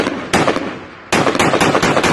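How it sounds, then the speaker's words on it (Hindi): Gunfire from the ground at US helicopters crackles in loud, rapid bursts, a short volley, a brief pause, then a longer sustained burst. "आसमान में उड़ रहे अमेरिकी हेलीकॉप्टर पर जमीन से गोलियां बरसाने का वीडियो वायरल हो रहा है"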